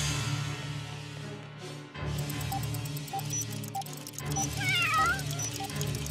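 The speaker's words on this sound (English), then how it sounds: "I think the little guy is more of an outdoor cat" A cartoon cat meows and caterwauls loudly over busy background music, with squeaky drawn-out cries near the end, no talking.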